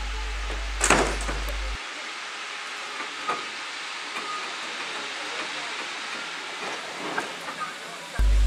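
A heritage train pulls away from Country Park Halt on the Severn Valley Railway, giving a steady broad hiss and rumble with a sharp knock near the start and a few small clanks as it moves off.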